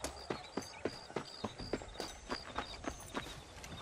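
Horse hooves clip-clop at a steady walking rhythm in the Red Dead Redemption video game, a regular series of distinct, fairly close hoof strikes over a soft outdoor background bed.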